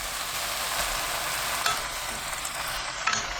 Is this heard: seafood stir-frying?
yes